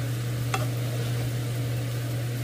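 Small anchovies stir-frying in garlic oil give a steady, close sizzle with a brief scrape of stirring near the start, and a constant low hum runs underneath.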